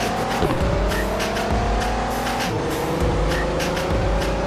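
A tuned Nissan Skyline R34 drag-races in the Car Parking video game, its engine revving hard and climbing through several gear shifts with tire squeal, loud and continuous with no talking.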